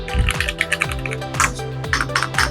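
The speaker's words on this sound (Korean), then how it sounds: "실제 타건을 했을 때 타건음이 정말 정갈하고 가스켓 특유의 타건감을 확실히 느낄 수 있었습니다" Typing on an Epomaker EK68 gasket-mount mechanical keyboard, close and clear, with crisp, irregular keystroke clacks in quick bursts and short pauses, heard alone.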